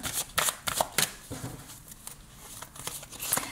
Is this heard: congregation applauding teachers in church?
no